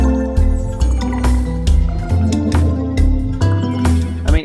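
A dense synthesizer song export with random modulators on the synths plays loud and full, with a steady pounding bass pulse and bright layered chords that swell and shift throughout.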